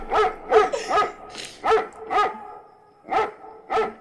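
Dog barking in the Roblox game The Floors Have Teeth: seven sharp, fairly loud barks in an uneven rhythm, close by, with no speech over them.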